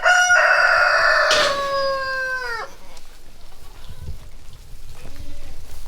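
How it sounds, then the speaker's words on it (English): A rooster crows loudly and close by in a shop setting, one long harmonic crow that fades out, followed by quieter background noise and faint rustling. "Could you stop crowing for me for just a minute?"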